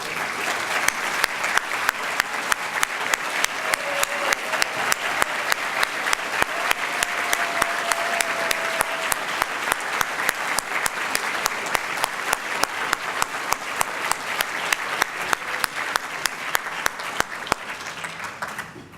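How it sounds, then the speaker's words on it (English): Sustained applause from a large awards-ceremony audience fills the space, many hands clapping steadily and evenly for a long stretch without letting up. "let us recognize you with a round of applause"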